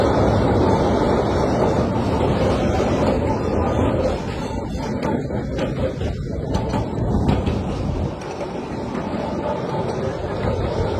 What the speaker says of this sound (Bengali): ট্রামও এত জোরে চলছে